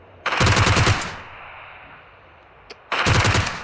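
Automatic gunfire from a shooting game, likely BGMI, in two loud rapid bursts separated by a quiet gap with a single brief shot, with no talking.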